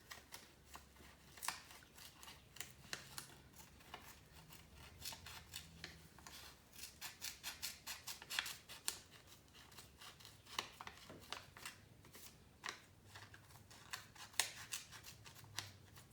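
Scissors snip through fabric in a long run of sharp, irregular cuts, close and fairly quiet, with occasional soft rustling between.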